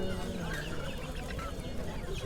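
Chickens cluck and squawk at a muddy village poultry market, several birds close by calling over one another in a busy, overlapping chorus against crowd murmur.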